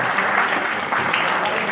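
An audience claps together in a steady burst of applause at a motivational seminar, dense and sustained from start to finish with no pause.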